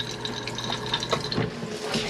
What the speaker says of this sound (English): You'll be able to press the button and fill it with water,